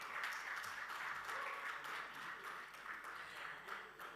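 An audience applauds an honoree at a maritime awards and honorary doctorate ceremony in Dubai, with a continuous, even wash of clapping from a large hall, moderately distant and steady for the whole stretch.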